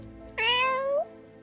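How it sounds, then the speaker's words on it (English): A piteous cat meow, one drawn-out, close and clear cry of about two-thirds of a second, rising then sliding down, alone over a quiet background. "the Manticora came sleepily out of the book, rubbing its eyes with its hands and meowing piteously"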